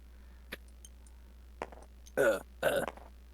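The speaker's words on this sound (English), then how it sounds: "Stop burping in my ear" Two drawn-out croaky burps close to the ear, coming one after another near the end, after a few small clicks and taps.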